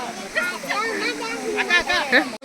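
A waterfall running low, its flow reduced to a stream, gives a steady broadband rush under close, continuous conversation.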